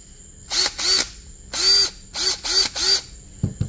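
A Bauer cordless drill powered by an adapted Ryobi 18V battery whirs in six short, separate bursts, each spinning up and winding down, followed by a few clicks at the end.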